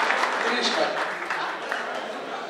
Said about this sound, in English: So a huge round of applause for